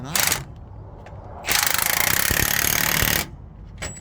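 Nuts on the U-bolts of a MAN truck's rear leaf spring are run up with a power tool, giving a short buzzing burst followed by a longer steady rattling whir of about two seconds, close and loud.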